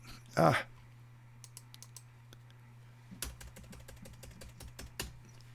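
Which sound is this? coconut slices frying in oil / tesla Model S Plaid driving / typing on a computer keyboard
typing on a computer keyboard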